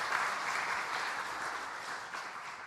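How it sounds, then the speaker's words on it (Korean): A church congregation claps together in praise, a dense, steady wash of applause held at even loudness throughout, with no speech over it. "하나님께 영광의 박수를 올려드리겠습니다."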